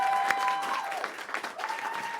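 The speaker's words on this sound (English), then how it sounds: "What about a round of applause for the band" An audience at a launch event applauds the band, a dense, steady burst of clapping from a crowd, fairly close, with a faint tone sounding beneath.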